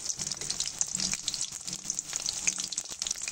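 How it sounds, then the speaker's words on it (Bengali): Onion and green chili fry in hot mustard oil in a kadai, giving a steady crackling sizzle with small pops throughout, close and fairly quiet, no talk. "কড়ার ভিতরে সরিষার তেল দিয়েছি, তেলটা খুব ভালো করে গরম হয়ে গেছে। এবারে দেব পেঁয়াজ"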